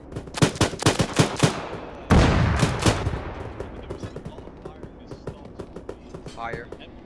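Rapid bursts of rifle and machine-gun fire in the Arma 3 Altis campaign, a quick volley of sharp shots followed by a heavy blast and scattered further shots, with a voice talking briefly near the end.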